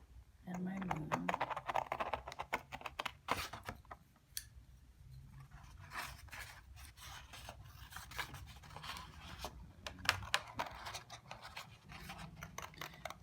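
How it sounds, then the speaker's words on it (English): Scissors snip and rasp through paper, cutting out small paper planets and a moon in a run of close, irregular crunching cuts with brief quiet gaps, alongside a little talk. "I'm going to cut out my little planets"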